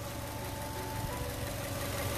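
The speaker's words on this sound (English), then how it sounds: "the car is running, and you can hear that engine" A 2011 Subaru Legacy B4 2.5 GT EyeSight Sport 4WD saloon runs steadily with its engine idling, a close, even mechanical hum with a faint rhythmic knock and no speech over it.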